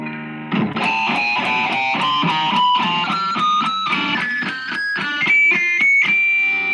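An electric guitar with heavy distortion picks a rapid melodic line, each note thick and saturated with a buzzing edge, loud and unaccompanied.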